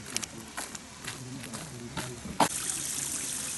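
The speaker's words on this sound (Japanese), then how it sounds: "水が流れてます。" A small mountain stream trickles and splashes along a trail at Mizuwake Gorge in Hiroshima, a soft steady babble that swells into a fuller, closer rush of water partway through, with faint scattered background sounds.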